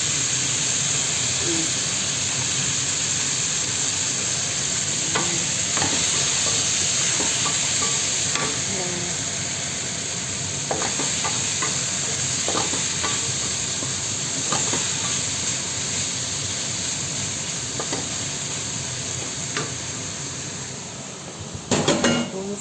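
Pancit noodles stir-fried in a pan, with loud continuous sizzling and hissing steam plus occasional scrapes and clinks of utensil against the pan, close and steady throughout.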